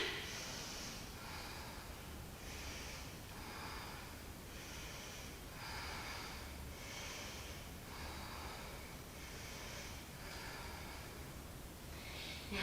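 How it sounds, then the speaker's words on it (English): Slow, even breaths during a wall yoga hamstring stretch, about a dozen soft airy inhales and exhales close to the mic, with no talking. "And just breathe."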